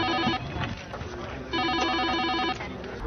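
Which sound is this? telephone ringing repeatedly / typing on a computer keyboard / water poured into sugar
telephone ringing repeatedly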